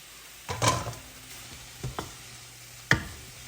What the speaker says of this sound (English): Stir this up real good.